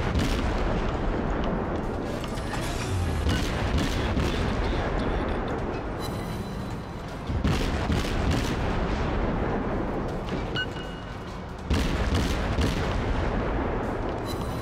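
Warship guns in a World of Warships naval battle fire a sustained barrage, dense overlapping booms rolling loud and continuous, with brief lulls and renewed volleys.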